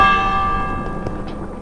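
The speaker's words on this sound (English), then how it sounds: "Ring the warning bell." A warning bell rings in the video game Minecraft Dungeons: one loud metallic chime with a sustained ringing tone that fades gradually.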